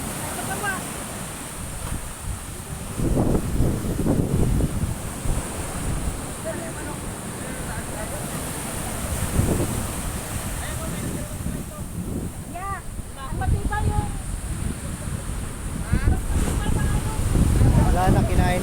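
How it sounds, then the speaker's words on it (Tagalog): Strong ocean surf crashes repeatedly on the shore at San Felipe, with heavy wind rumbling across the microphone and broad roaring bursts rising and falling. A person's voice comes through intermittently over the waves. "Lakas ng alon."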